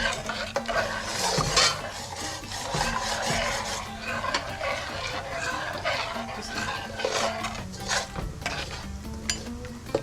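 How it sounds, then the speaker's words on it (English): A spoon scrapes and stirs a melting milk mixture in a pot, continuous rasping and clinking strokes against the metal bottom, steady and close, with no talk. "And you gotta keep stirring. Feel for the grains at the bottom."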